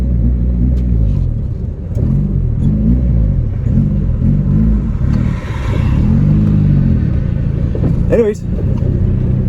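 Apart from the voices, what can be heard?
1987 Yugo engine running roughly after sitting 15 years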